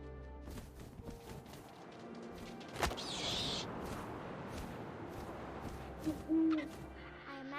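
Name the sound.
owl hooting in What Remains of Edith Finch video game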